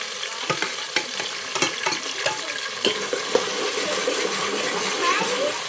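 Green chillies frying in a pan for a village-style vegetable dish, with a steady crackling sizzle broken by sharp utensil clicks and stirring taps, close and moderately loud.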